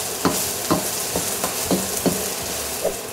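Onion and garlic sauté in a pan over low to medium heat for pininyahang manok, a steady close sizzle broken by a series of regular scraping stirs roughly every half second.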